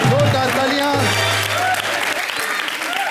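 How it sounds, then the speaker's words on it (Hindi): A crowd claps steadily and loudly throughout, with some voices and cheers rising over the applause, from a television comedy show studio audience. "जोरदार तालियां"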